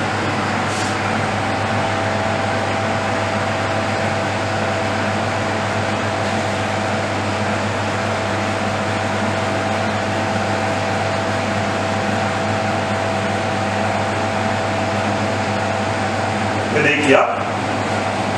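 A soft-serve ice cream machine dispensing a mixed chocolate and vanilla swirl gives off a steady, even motor hum with a droning tone throughout, ending in a brief rustling clatter near the close.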